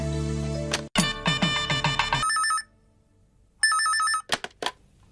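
A telephone rings in loud electronic bursts, with a short melodic chime pattern that repeats, cuts off, and then starts again briefly before stopping. No voices are heard.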